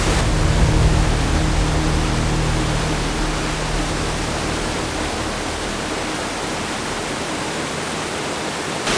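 A large waterfall in Wales roars as a dense, steady rush of broadband noise, loud and unbroken throughout with no voices.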